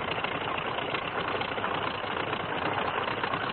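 Stearman PT-13 Kaydet biplane radial engine idling on the ground with brakes set: a steady, rough, loud drone with a fast knocking pulse, heard continuously without any change in pitch, in a muffled, old recording.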